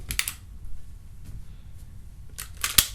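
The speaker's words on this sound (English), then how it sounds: "You take one little finger to operate this bolt" The bolt of a Marlin Golden Model 39A lever-action .22 rifle is worked by hand, giving a few crisp metallic clicks and a sharp close snap near the end, with quiet handling noise between.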